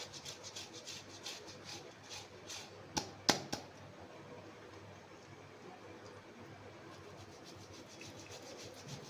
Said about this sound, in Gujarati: આ રીતે ખમણી લેવાનું, જેથી ગાંઠ ન રહે.